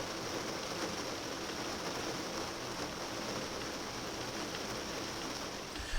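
Rain falls steadily outdoors in a woodland glade, a soft even hiss of drops that stays constant and fairly faint throughout with no talk.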